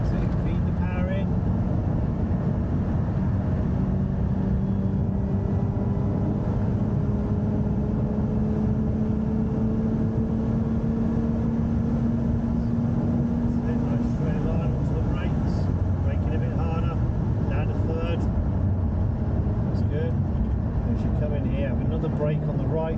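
A Lotus Emira sports car accelerates around the Thruxton race circuit, heard from the cabin as a steady engine drone whose pitch climbs gradually, with people talking over it.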